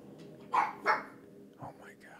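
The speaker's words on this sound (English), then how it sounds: "Oh my god. These dogs." Dogs bark in the Sherlock Holmes: The Awakened video game: two sharp, fairly close barks in quick succession, followed by a softer, shorter yelp against a quiet background.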